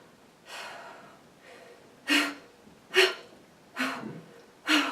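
Sharp, heavy breaths during a strength exercise come in a steady rhythm, about one every second, close and loud, each forceful exhale or gasp standing alone with little else around it.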